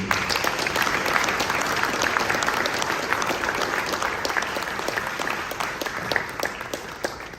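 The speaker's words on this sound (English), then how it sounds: "give yourselves a round of applause for this" Audience at a school event applauding steadily, a dense wash of many hands clapping close by that holds for several seconds and eases slightly toward the end.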